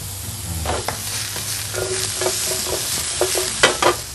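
Coriander root, garlic and pepper stir-fried in a pan: a steady sizzle under repeated scraping stirs, with a few sharper clinks of the utensil near the end, close and alone.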